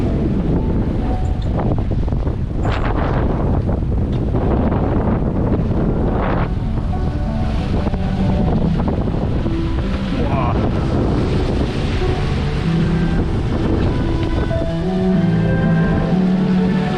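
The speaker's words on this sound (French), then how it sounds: "il y a pas mal de creux et il y a du vent et c'est musclé quoi." Strong wind buffets a sailboat at sea on an Atlantic crossing, a steady loud roar of gusts and rushing water with waves slapping the hull throughout, no voices.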